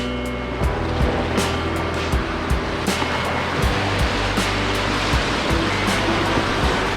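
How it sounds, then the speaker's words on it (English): Whitewater rapids with standing waves on the Temagami River make a steady, loud rushing roar, with repeated splashes and slaps breaking through the wash up close throughout. "Those standing waves were a little bigger than they looked"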